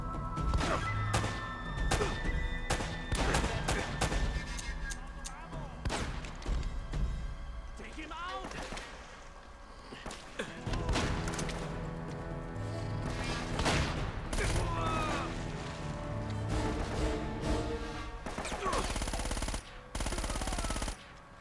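Shotgun blasts and automatic gunfire in Uncharted: Drake's Fortune: rapid machine-gun bursts and heavy single booms keep coming throughout. Someone talks over the shooting for much of the time.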